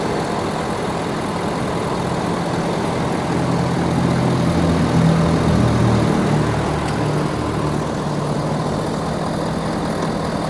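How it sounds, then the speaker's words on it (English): A 2017 Ford F250 King Ranch with a 6.7L Powerstroke diesel, turbo upgrade and stock exhaust, idles smoothly and fairly quietly, a steady low rumble close by with a slight swell midway. "Really smooth running engine"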